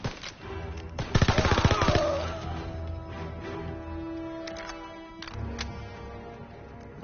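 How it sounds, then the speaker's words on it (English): Machine gun fire in the Call of Duty WWII campaign: a loud, rapid burst of automatic shots up close, then more distant scattered firing and battlefield rumble trailing on, with no one talking. "They started shooting at us."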